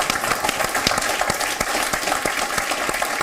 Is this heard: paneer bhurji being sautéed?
no